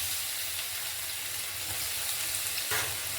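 Chopped garlic fries in a little oil in a pan, giving a soft, steady sizzle with a brief stir near the end.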